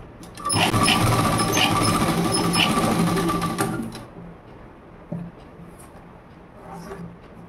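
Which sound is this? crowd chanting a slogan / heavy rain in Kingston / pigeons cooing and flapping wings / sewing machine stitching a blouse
sewing machine stitching a blouse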